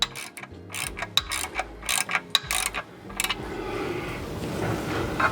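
Ratchet tightening the bellhousing bolts around the clutch and flywheel of a T5 gearbox: a loud series of sharp, uneven clicking bursts at close range, then a duller rustling mechanical rumble.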